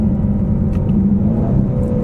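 A 2024 Ford Mustang EcoBoost with the High Performance Package downshifts off throttle, giving a steady, close engine rumble with a low drone that holds evenly throughout.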